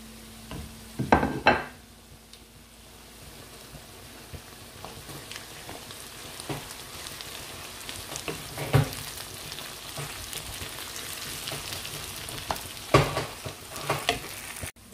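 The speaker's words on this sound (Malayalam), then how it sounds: "നമുക്കിനി തക്കാളിയും പച്ചമുളകും ചെറിയ ഉള്ളിയും കൂടെ ആഡ് ചെയ്ത് കൊടുക്കാം." Onions, tomato, green chili and shallots sauté in a pan under a soft continuous sizzle, punctuated by a few louder scraping stirs and clinks of a utensil against the pan.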